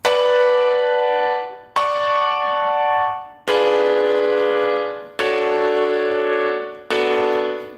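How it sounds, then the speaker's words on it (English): A simple piano instrument in beat-making software plays a melody of five sustained, ringing notes, each held and then cut off cleanly, loud and close with no talking. "This little piano instrument's really good because it like if you have a good melody, it'll sound good as just piano."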